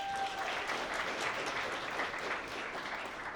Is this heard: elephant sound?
no